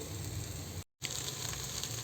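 Rice for vegetable biryani sizzles steadily in a hot pan, a loud continuous crackle that cuts out for a moment and then resumes.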